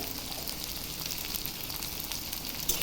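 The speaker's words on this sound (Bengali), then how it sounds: "আলুগুলো আর পেঁয়াজগুলো ভালো করে ভেজে নেব" Chopped onions and potatoes fry in a pan with a steady, close sizzle that runs without a break for a few seconds and carries no talk.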